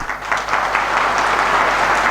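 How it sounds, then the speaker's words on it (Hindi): Steady audience applause at a weekly seminar, a dense wash of many hands clapping at once, loud and sustained throughout. "ताली मत मारो, आपके ताली में कोई दम नहीं है।"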